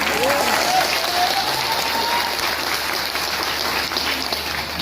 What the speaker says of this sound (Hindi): एक बार ताली बजा सकते हैं